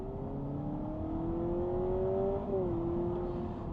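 A 2025 Honda Civic Sport Touring Hybrid engine kicks on and revs in sport mode, a rising droning tone that climbs steadily then drops slightly, heard from inside the car.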